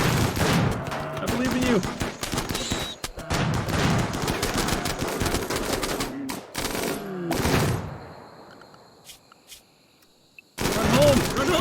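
Turrets in the RimWorld video game open fire on a rat, loud bursts of rapid gunfire in long volleys broken by short gaps, with someone talking over them.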